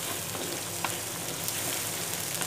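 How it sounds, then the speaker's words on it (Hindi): Chopped garlic and ginger fry on a tawa, giving a dense continuous crackling sizzle with scattered pops, close and steady, no talking. "ये जो चॉप लहसुन और अदरक होता है ना"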